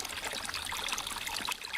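Water trickles and splashes steadily from a drilled hole in the rock beside a hiking trail on the Lago Sorapis loop, a close, continuous, bright burbling with no voices.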